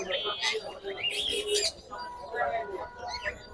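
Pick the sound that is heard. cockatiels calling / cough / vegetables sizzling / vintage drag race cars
cockatiels calling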